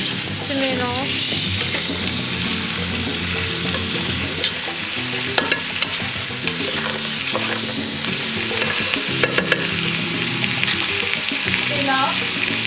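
Spices sizzle steadily in a hot pan for homemade couscous while a spoon stirs them, with scattered scrapes and taps over a constant frying hiss.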